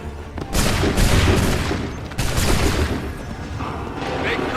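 Soldiers fire a musket volley in Assassin's Creed 3, a loud crackling burst of many shots followed by a second burst about two seconds later, each trailing off into rumbling echo.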